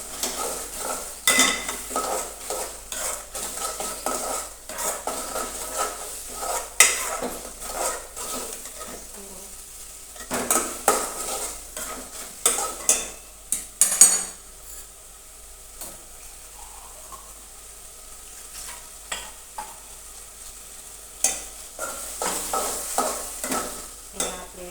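A spoon scrapes and stirs vegetables with turmeric, coriander-cumin and chilli powder in a metal pan, with repeated clinks and scrapes in uneven bursts over a soft sizzle.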